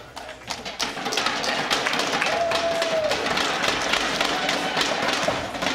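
A large crowd at a League of Legends grand finals esports event cheers and claps in a steady, loud roar that swells and holds without letting up.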